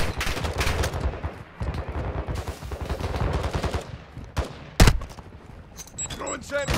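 Gunfire in Call of Duty Warzone DMZ, dense bursts of automatic weapon shots and booming impacts rattling on continuously, with a voice speaking over the shooting and a louder blast near the end.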